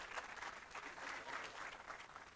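Faint applause from a science conference audience for Dr. Patrick Chicote, a soft, continuous wash of distant clapping with no single claps standing out, heard alone at low level.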